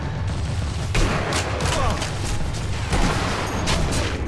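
Gunfire from the sniper shooter game Sniper Elite V2, a dense run of sharp shots and booms repeating about every half second to second, loud and close over constant battle noise.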